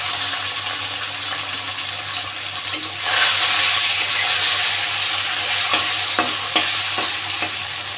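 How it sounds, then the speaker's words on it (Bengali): Fish sizzling steadily as it fries in hot oil, a continuous loud hiss with occasional crackles and pops, no talking. "মাছটা ভাজতে দিয়ে দিচ্ছি।"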